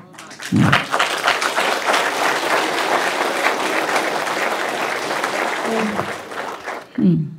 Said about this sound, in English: Hoorah and clapping and all that.